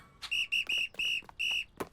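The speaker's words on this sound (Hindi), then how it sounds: "हमें सीटी मिल गई।" A cartoon whistle is blown in five quick shrill toots of uneven length, bright and close, followed by a short sharp click.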